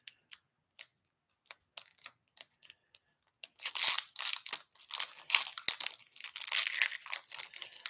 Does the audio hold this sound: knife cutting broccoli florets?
no